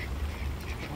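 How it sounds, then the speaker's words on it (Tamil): Ducks quack steadily through a rainy rural scene, their calls blending over a constant wash of rain noise, with no voices. "மழை வரையும் எங்க வாத்துகளை பாருங்க,"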